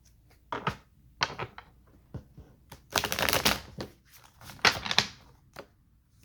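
Tarot cards being shuffled nearby in uneven bursts, soft taps and slides building to a couple of louder riffling flurries.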